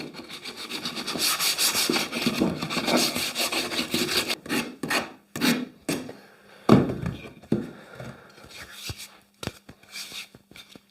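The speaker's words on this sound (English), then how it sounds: "And then a little bit of hand sanding just to finish off." Hand sanding a wooden push stick: rapid scratchy back-and-forth strokes, dense at first, then breaking into shorter bursts with a few light knocks.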